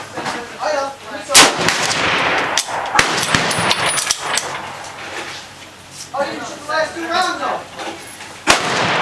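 A Springfield M1903A1 rifle fires several sharp, loud, close shots spaced a few seconds apart, each with a short echoing tail, while people talk between the shots.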